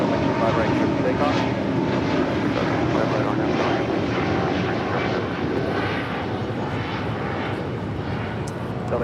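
Airplane taking off from runway 25 right at LAX, a loud continuous broadband engine roar that holds steady throughout, with radio voices talking over it.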